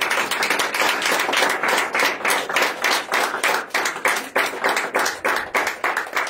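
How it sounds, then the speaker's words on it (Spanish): A church congregation claps together in a steady rhythmic beat, roughly two claps per second, loud and close, repeating evenly without speech. "Un aplauso para el Señor y Señor."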